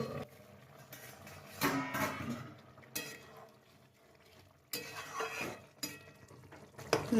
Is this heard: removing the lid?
yes